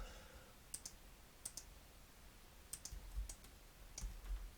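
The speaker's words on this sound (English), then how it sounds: "I'm just basically going the old-fashioned route and clicking everything individually" A computer mouse clicks during 3D modelling of a lamppost, giving sparse, faint double clicks at irregular intervals over a low steady hiss, with no talking.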